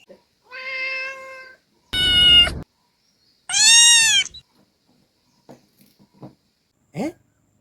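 A cat meows several times indoors, loud and close, with separate drawn-out calls and a shorter one at the end, plus a few faint knocks in between.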